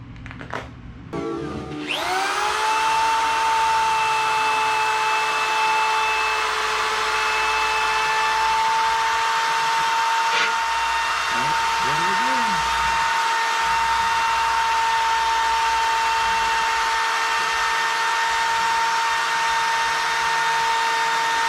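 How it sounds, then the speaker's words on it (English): A power sander whines steadily and loudly after spinning up, sanding paint on a restored 1948 Chrysler New Yorker, a continuous high-pitched mechanical drone with no talk over it. "because of trash, I have to do a little sanding and buffing"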